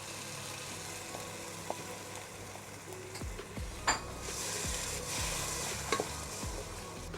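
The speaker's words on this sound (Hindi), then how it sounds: "अच्छे से भूनने के बाद इसके अंदर टोमेटो पेस्ट डाल दें।" Tomato paste frying with spices in a pan for a prawn curry, a continuous sizzle with scraping stirs and occasional clinks of a spoon against the pan.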